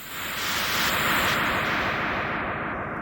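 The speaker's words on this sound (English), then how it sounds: "you can hear the echo gradually darken." Prime Echo, an echo module in the VR modular synthesizer SynthVR, runs with its color dial set low, so the repeats grow darker. A dense, steady, fairly loud wash of echoed synth sound plays with no voices.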